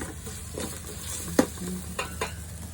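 Salmon frying in a pan gives a soft, continuous sizzle with a couple of light utensil clicks and taps, quiet and steady with no talking.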